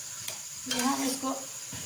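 Half a kilo of keema browning in a pan with ginger paste, giving a soft sizzle that swells midway, broken by a few stirring scrapes.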